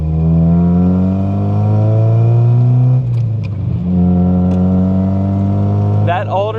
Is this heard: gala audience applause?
no